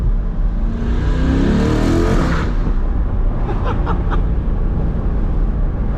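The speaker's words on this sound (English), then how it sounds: "the snap, like the little crackle whenever it shifts" A C8 Corvette on Nitto NT05 tires accelerates hard, its exhaust roaring loud and close as the revs climb, then a quick shift brings a short burst of pops and crackles before the steady drone resumes.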